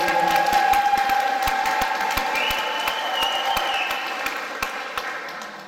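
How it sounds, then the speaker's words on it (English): Audience applause at the opening of a magic venue in Limerick, a steady wash of clapping from a crowd that holds through and slowly thins toward the end, with a faint tone and a few sharp claps standing out. "Give Elaine a big round of applause."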